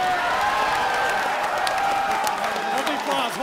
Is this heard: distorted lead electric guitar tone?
no